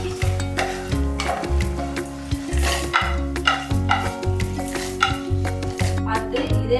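Halved tomatoes sizzle and fry in hot oil in a pan, with repeated scraping and stirring of a utensil against the metal.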